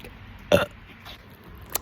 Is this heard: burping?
yes